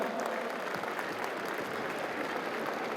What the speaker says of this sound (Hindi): जोरदार तालियां बजा दीजिए एक बार।